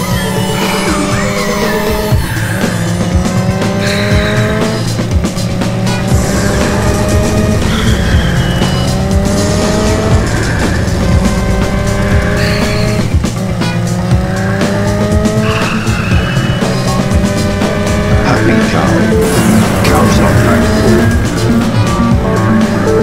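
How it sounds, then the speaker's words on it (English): Motorbike riding in the Rollergirls From Beyond VR video game, a loud continuous revving engine drone with repeated rising and falling whines and screeching game effects layered over music, unbroken throughout. "Now we are on a motorbike."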